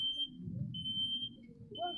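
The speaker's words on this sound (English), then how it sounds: "that is your smoke alarm going off" A smoke alarm in a kitchen filling with smoke during a fire service demonstration sounds a sustained high-pitched electronic tone that cuts out briefly and resumes, over a low rumbling background.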